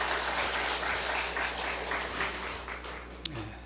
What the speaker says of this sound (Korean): 박수로 감사하십시오.